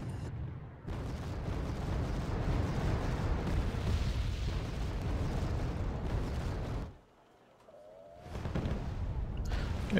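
Artillery in the war game Wargame Airland Battle sends out heavy rumbling blasts that roll on continuously, then drop off briefly into near silence before another burst returns.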